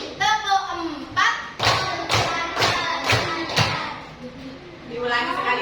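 A group of children in a classroom claps together in a counted rhythm, a run of sharp, loud claps at a steady beat with voices of children and an adult teacher talking between and around them.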